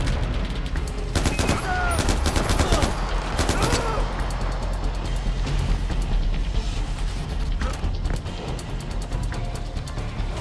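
Gunfire in the video game Far Cry 4, with bursts of rapid automatic shots clustered early on and then a denser, noisy battle din of scattered shots and blasts continuing throughout.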